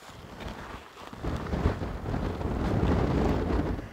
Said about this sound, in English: strong gusts of wind